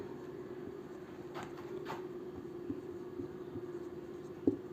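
Chalk or marker writing on a board during a maths class, with faint, soft scratching strokes over a steady background hum and a small knock near the end.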